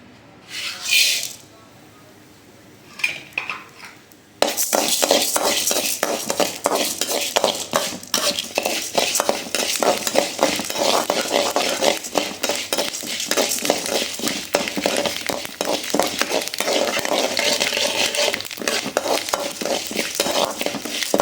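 Mustard seeds and urad dal frying in a little oil, a dense steady crackle and sizzle that starts abruptly after a few quiet scrapes and then runs on loudly and unbroken.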